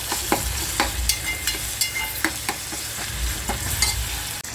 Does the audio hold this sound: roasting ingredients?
yes